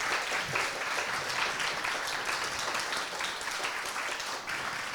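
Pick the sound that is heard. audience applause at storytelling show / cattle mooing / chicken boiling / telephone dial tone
audience applause at storytelling show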